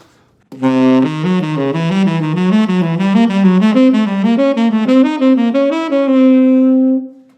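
A clean electric guitar plays a fast, continuous stream of diminished triad arpeggios that rise and fall, ending on a sustained ringing note.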